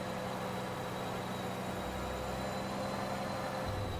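A Freightliner truck engine in American Truck Simulator, on an icy Alaskan road, hums in a low, steady drone with a constant whining tone on top, quiet and unchanging throughout.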